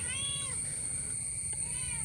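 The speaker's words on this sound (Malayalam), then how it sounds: "കിണറ്റ് വീണ പൂച്ച ഡേഞ്ചറാണ്." A cat trapped after falling into a disused well gives a couple of drawn-out meows, faint and echoing, over a low steady background hum.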